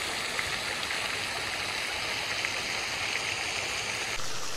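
A park fountain gives off a steady, dense rush of splashing water, loud and close, with no break and no voices.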